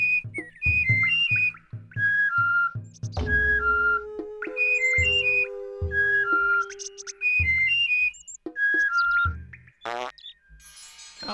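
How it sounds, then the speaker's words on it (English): Character whistling in Oddworld: Abe's Oddysee, repeated short two-note whistle phrases answering each other in a call-and-response pattern, clear and close with soft game thumps beneath. "Okay, whistle to me."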